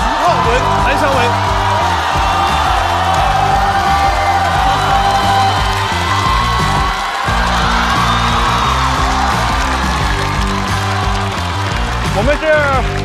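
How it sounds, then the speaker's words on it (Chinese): A studio audience at a comedy show claps and cheers loudly to welcome a team of four, a dense sustained wave of applause with whoops and shouts, voices calling out on top. "让我们掌声欢迎4大天王队"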